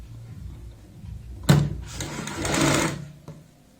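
A sewing machine stitches lace onto the reverse side of a kurti neck patch in a short, fairly loud burst that starts sharply and then settles into a steady run, close by, with no talking.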